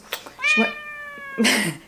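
A house cat gives a couple of close, clear meows indoors, one drawn-out tonal call followed by a shorter breathy one.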